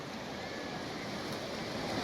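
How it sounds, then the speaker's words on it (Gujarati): Large ocean waves break on a beach near Surat on the Gujarat coast, a steady broadband roar of surf mixed with wind that stays loud and continuous throughout. "ખૂબ જ મોટા મોટા મોજા"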